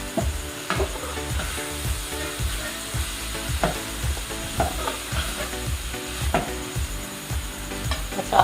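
Chicken and vegetables stir-frying in a pan for chicken chow mein, a loud sizzle broken by quick rhythmic scraping and clattering strokes of a spatula, close and continuous, no one speaking.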